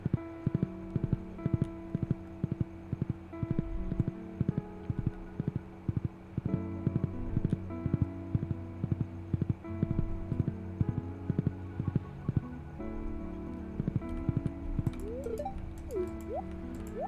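Horse hooves clip-clop steadily in Stardew Valley, a farming video game, with rapid regular hoofbeats running throughout alongside layered game music, with no talking.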